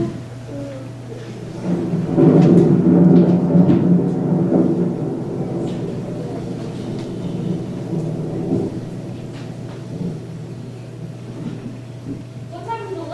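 Stage thunderstorm sound effect with rain in a children's theater murder-mystery play, a deep rolling thunder rumble swelling then fading into steady rain hiss, with a few faint voices and a hum beneath.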